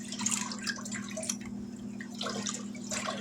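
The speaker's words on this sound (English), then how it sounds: "let's give this a stir. So that salt dissolves" Canning salt brine is stirred so the salt dissolves, giving soft liquid sloshing and dripping with faint clinks over a steady low hum, close and fairly quiet.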